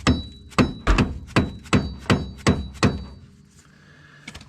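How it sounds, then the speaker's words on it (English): A dead blow hammer strikes repeatedly on a stuck axle during Dodge Neon spindle replacement, seven heavy dull thuds in a steady rhythm, close and loud, followed by quieter shop noise. "I found my dead blow hammer, so I'm trying to get this stupid axle out of here."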